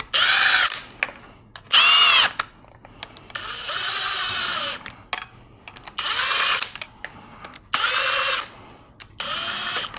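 A power tool drives bolts into a Subaru EJ engine gasket in repeated short whirring bursts with brief pauses between them, close and loud.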